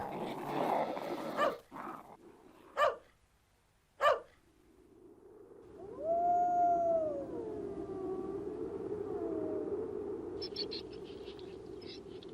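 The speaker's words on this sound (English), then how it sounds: "Can you guess why dogs howl?" A dog gives a long, wavering howl that rises and falls, loud and alone, after a few sharp knocks and rustles at the start.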